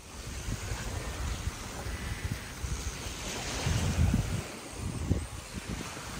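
Sea waves wash onto the shore with wind buffeting the microphone, a steady rushing roar with small surges, and no talk.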